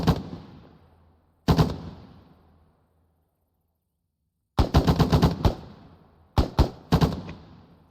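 Machine gun fire during joint squad training: two loud single reports ring out and echo, then a pause, then rapid close bursts and a few more sharp shots, each trailing off in echo.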